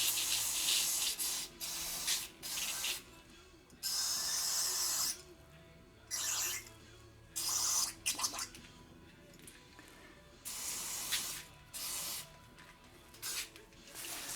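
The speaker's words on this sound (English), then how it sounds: "We're going to let the spray and the force of the spray do all the work." Solvent cleaner sprays in repeated short hissing bursts onto the mass air flow sensor of a Mazda 5 with a P0101 fault. About eight close, sharp blasts are separated by brief quiet gaps.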